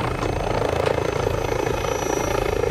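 Helicopter in Call of Duty: Modern Warfare II starting up, a steady whirring rotor and engine drone held at even loudness throughout, no talking over it.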